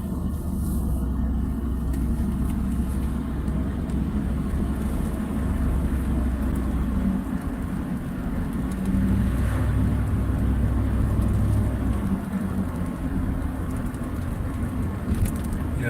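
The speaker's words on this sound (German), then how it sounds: "jetzt fahren wir hier über die Brücke" A truck driving over a bridge on the road from Zittau to Löbau gives a steady low engine and road rumble with wind noise, constant and fairly loud throughout.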